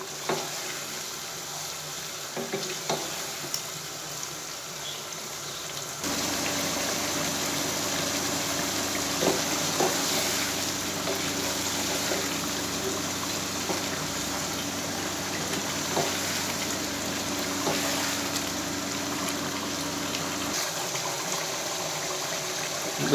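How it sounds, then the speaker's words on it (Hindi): Dhaba-style chicken masala gravy roasting in a pan, a constant even sizzle and crackle that swells louder after a few seconds, with occasional scrapes of stirring, heard alone without talk. "तो 10 मिनट हो गए हैं इसको भूनते हुए"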